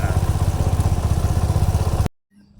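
A Suzuki V-Strom 250 SX motorcycle engine runs at a steady idle close by, a rhythmic low thumping pulse lasting about two seconds before cutting abruptly to silence.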